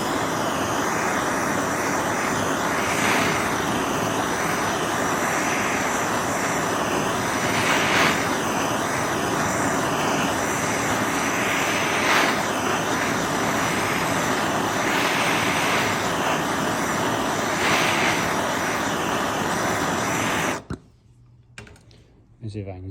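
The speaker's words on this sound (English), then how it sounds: "So fire it up. I'm using a Benzomatic map gas" A Bernzomatic MAP gas torch heats sheet metal during hand fabrication, roaring loud and near with a steady, rushing flame that pulses slightly before cutting off abruptly near the end.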